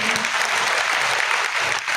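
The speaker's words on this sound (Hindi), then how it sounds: "उनके लिए जोरदार तालियां कीजिए" Loud, dense applause from an audience at a religious Bhagwat katha gathering honouring a family, a continuous crackling wash of many hands throughout.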